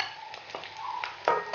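Chilli pieces stir-fried in a pan with dried shrimp for a Sri Lankan chilli paste: quick spatula scrapes and clinks over a soft, close sizzle.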